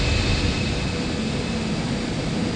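An airplane engine roars steadily during takeoff in an air traffic control video game, a loud, constant broadband rush with no voices.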